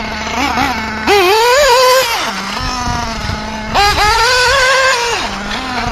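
A ProTek RC Samurai RM .21 nitro engine, still new and being broken in, screams up to high RPM in two loud, whining bursts, dropping back to a buzzing idle between them.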